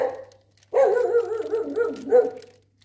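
A dog barks and yelps nearby in a short burst of several rapid, wavering barks after a brief quieter opening sound, moderately loud with no talk over it.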